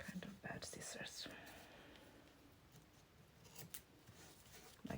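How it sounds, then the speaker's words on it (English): Worn, rather dull scissors trim excess tape on fabric prepared for an inkjet printer, with a few close snipping and rustling sounds near the start and again midway, under quiet whispered talk. "Kind of bad scissors."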